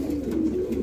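Caged pigeons, two pairs at a sale centre, give a low, soft coo that runs briefly and steadily, faint and close.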